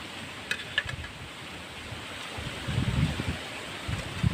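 Wind gusting outdoors at a riverside meal where fish soup with red ants is cooked, a steady broadband rush with louder buffeting swells toward the end, no speech.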